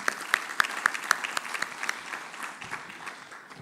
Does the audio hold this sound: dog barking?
no